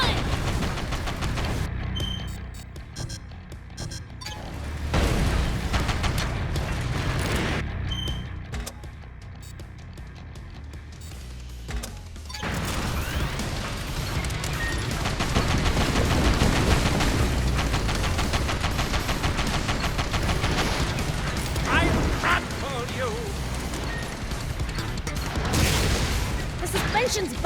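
Explosions and gunfire in the PS5 game Sand Land roar in dense, continuous bursts for the whole stretch, loud and close, with short lulls between heavy volleys.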